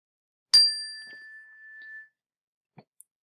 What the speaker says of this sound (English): you heard that bell and you turned your attention back to me